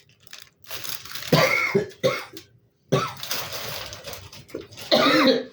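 Someone coughs repeatedly in close, harsh bursts, with short pauses between fits and a throat-clearing sound among them.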